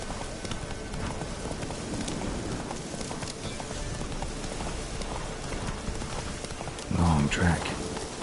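Galloping hooves of the horse Roach in a PS4 video game, a fast, continuous patter beneath steady game ambience, with a voice speaking briefly near the end.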